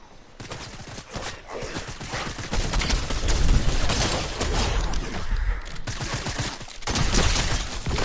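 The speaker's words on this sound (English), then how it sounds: "That's literally the Chuck Cannon." Chug Cannon fired during a Fortnite match, heard as a dense, loud barrage of booming, crackling bursts that pile up over several seconds with only brief dips between them.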